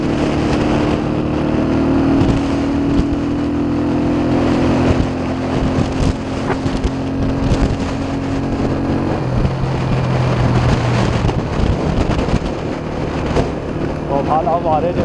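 An Iranian-made Amico Honda 125 motorcycle from year 88 of the Iranian calendar rides at speed, close to its roughly 90 km/h top speed, with a steady engine drone and wind roar throughout.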